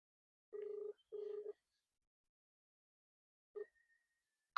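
An outgoing phone call rings on the line: two short buzzing ring bursts, a pause, then a brief third tone, heard alone against near silence.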